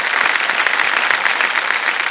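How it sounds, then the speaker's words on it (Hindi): Loud, dense applause from a quiz show studio audience honoring a teacher guest, a continuous bright wash of clapping held at a steady level. "तालियों के साथ इनका अभिनंदन"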